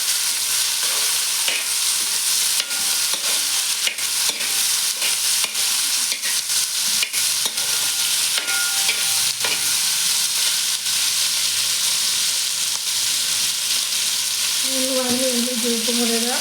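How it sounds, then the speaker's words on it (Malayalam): Onions, shallots, chili and curry leaves sautéing in a pan, a loud steady hiss of frying throughout with occasional stirring clicks and a brief tonal sound near the end. "ഇതെല്ലാം ഇട്ടിട്ട് നന്നായിട്ട് വഴറ്റിയെടുക്കാം"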